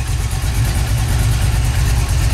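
A 1978 Chevrolet Malibu Classic with a custom exhaust, X-pipe and cutouts idles loudly up close, its deep rumble pulsing in a steady rapid rhythm throughout.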